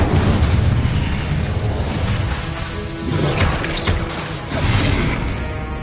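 Confringo blasting spell from the Hogwarts Legacy game, a dense, rumbling explosion wash with several swelling booms and crackling debris in a continuous loud fight mix, no talking.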